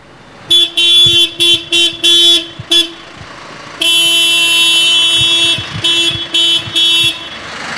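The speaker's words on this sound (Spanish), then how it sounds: "Cuando suena el claxon" Horn of a butane delivery truck arriving in a village, honked in a series of short blasts and one long sustained blare, loud and close with no talk over it.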